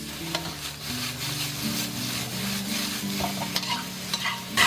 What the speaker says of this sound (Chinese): 铁锅烧热过后，我们来点油，然后先下入茄子，给它炒个2分钟左右